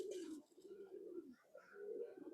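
Khulna Chot Madi pigeon cooing up close, a run of low, throaty, rolling coos that swell and fade in steady phrases, with no talking.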